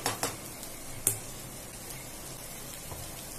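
Egg fried rice sizzles steadily in a pan, with a few sharp scrapes and clinks of the spatula stirring near the start and one more a second later, then a soft continuous frying hiss.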